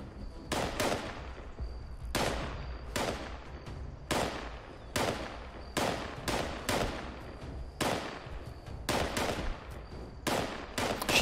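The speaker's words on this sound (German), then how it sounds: "Schießen die jetzt auf Verdacht?" Gunfire from enemies in Fallout 76: repeated sharp, cracking shots in irregular bursts and clusters over about eleven seconds, fairly close and loud against a low background rumble.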